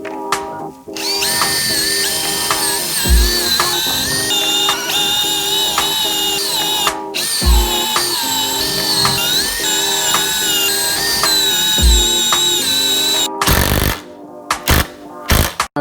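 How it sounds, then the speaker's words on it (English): A power drill whines loudly and steadily for long stretches, pitch wavering as it bites, with brief pauses and restarts near the end. "So I'm going to drill it out."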